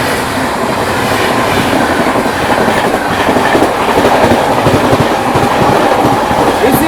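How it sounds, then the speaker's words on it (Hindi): Howrah Rajdhani express train rushing past at speed, a loud, continuous roar of wheels on rail with steady clickety-clack and rattling carriages throughout, close by and unbroken. "दोस्तों चिपक चुका है अपनी हावड़ा राजधानी, किंग ऑफ राजधानी। भागा भागा, किंग ऑफ राजधानी, हावड़ा राजधानी।"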